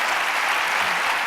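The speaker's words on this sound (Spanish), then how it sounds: "Fuerte aplauso, por favor" Dense, loud audience applause at a talk on education financing, a continuous wash of many hands clapping with no pause.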